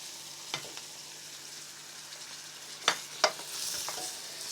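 Green peppers frying quietly in a pan as tomatoes are added, a soft steady sizzle broken by a few sharp clicks and thuds of a utensil against the pan.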